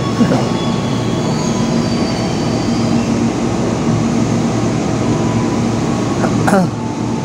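A KRL commuter electric train rumbles steadily along the tracks with a constant low roar, and a brief wheel squeal cuts in near the end.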